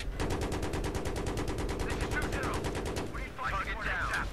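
Rapid automatic gunfire in Battlefield 3, a dense run of close, loud shots for about three seconds, then a pause with voices heard under the game noise.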